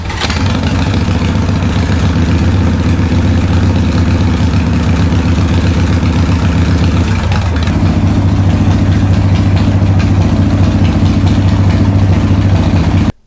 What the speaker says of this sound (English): we're going to start the bike with a voltmeter attached to the battery